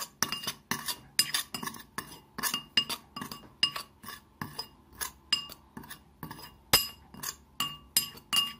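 Rapid rhythmic clinking of a utensil against a bowl while mixing fishing boilie bait with starch, steady strokes repeating close up with no talking.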